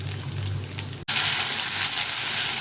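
Whole cumin and chopped onion hit hot oil in a pan, a bright hissing sizzle that cuts out briefly and then surges back louder and steady, close up.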